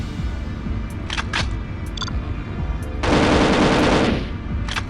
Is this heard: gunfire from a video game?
yes